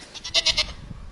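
A goat at a neighboring village farm gives a short wavering bleat of a few pulses, close and clear against quiet farmyard background.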